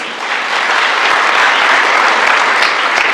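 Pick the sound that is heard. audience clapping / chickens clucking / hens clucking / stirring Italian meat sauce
audience clapping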